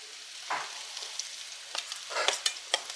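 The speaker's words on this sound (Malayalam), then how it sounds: "നമ്മളിതിലേക്ക് ഇഞ്ചി വെളുത്തുള്ളി പേസ്റ്റ് ഇട്ട് കൊടുക്കുന്നത് കണ്ട." Ginger garlic paste frying in a pan for biryani, a soft sizzle with short spattering crackles and stirring scrapes, close but fairly quiet.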